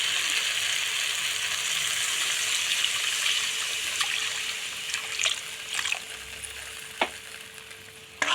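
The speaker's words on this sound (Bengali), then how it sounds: "তারপর দিয়ে দেব জল" Water pours and trickles into a hot pan for a Bengali dal bora dish, hissing and sizzling steadily, with a few sharp clinks of a utensil near the end.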